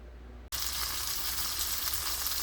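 Slovacek sausage and green bulb onions hit a hot pan with a sudden sharp sizzle, then fry in a steady, loud, close crackle with no talking.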